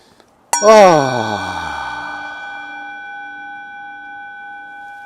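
A gong is struck once during a breathing meditation, a sharp onset blooming into a rich shimmering tone that slowly decays with a long sustained ring, heard alone.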